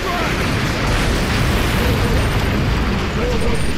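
Missile strike explosion in the Modern Combat 4 mobile game, a loud continuous rumbling roar that fills the whole stretch without letting up, with no clear break or separate blasts.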